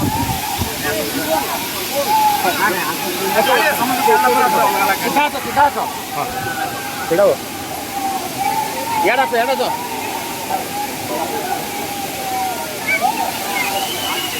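Steady rushing water from Gandahati waterfall in Gajapati, India, fills the scene at a constant level, with people talking over it throughout.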